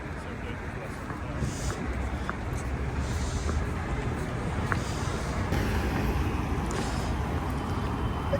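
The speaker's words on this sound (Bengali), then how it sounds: "আর মস্কোতে রাশ আওয়ারে ভালোই যানজট হয়" Rush-hour traffic rumbles along a Moscow street near Arbatskaya, giving a steady, loud roar of passing cars and buses with some wind noise, while someone talks over it.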